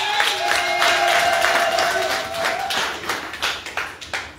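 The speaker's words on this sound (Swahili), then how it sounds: "Hebu mpe Yesu makofi mengi mengi" A church congregation claps for Jesus during a Sunday service. Many hands patter at first over a sustained held keyboard-like tone, then the clapping thins into separate, irregular claps.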